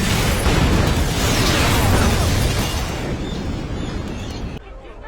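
A bomb goes off in a thriller-film scene, a massive roaring blast that rumbles on at full loudness and then cuts to a quieter tail.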